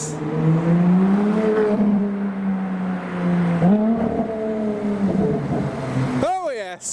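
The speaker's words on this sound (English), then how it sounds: "Oh my god, it's a LaFerrari!" Ferrari LaFerrari V12 supercar driving past on a London street, a loud roaring engine note that rises and falls as it passes close by, with a sharp rev flaring near the end and excited voices talking over it.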